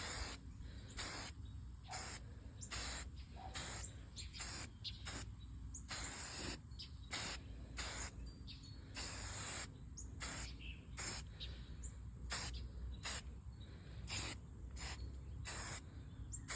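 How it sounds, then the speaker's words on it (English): Flat black spray paint is misted lightly over a wet copper finish in short, repeated hissing bursts with brief gaps between them, close and fairly quiet, with no talk. "you're gonna take your black, flat black, and you're gonna lightly mist"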